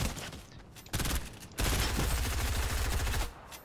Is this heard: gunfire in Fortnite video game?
yes